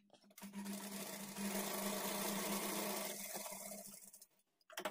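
A sewing machine joins blouse pieces with a steady, fast whirring hum that runs for most of the time, briefly eases, then ends in a few soft knocks, close and with no talking.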